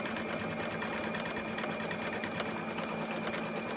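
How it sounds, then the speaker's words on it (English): A sewing machine stitches batting onto a fabric box, running in a steady continuous whir of rapid needle strokes, close and even, with no pauses or voices. "Step 2 is going to stitch your batting in place."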